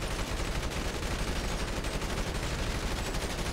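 Dense, continuous gunfire from GTA Online on Xbox crackles without pause at close range, loud and unbroken throughout with no talk.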